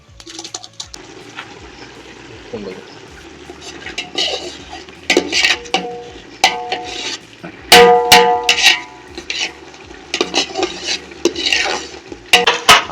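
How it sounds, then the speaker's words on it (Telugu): Ginger garlic paste stirred and fried in oil in a pot for a village-style chicken curry, with sharp metal spoon scrapes and clanks in irregular bursts over a faint sizzle, close and loud, no speech. "తెల్లగడ్డలు తట్టినవి, అల్లం వెల్లుల్లి పేస్ట్, మనం రుబ్బి పెట్టుకున్న ఇది పోసుకుందాం."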